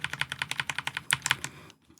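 Attack Shark K86 wireless hot-swappable mechanical keyboard keys pressed in a quick regular run of about fifteen crisp clicky strokes, close and loud, ending in quiet.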